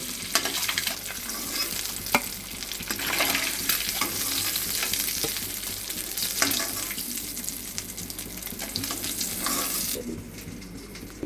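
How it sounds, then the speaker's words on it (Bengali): Steady sizzling of potatoes frying in oil, with occasional stirring clicks and scrapes, continuous and close, ending more quietly. "তেল দিয়েই আলুটা একটু ভেজে নেব।"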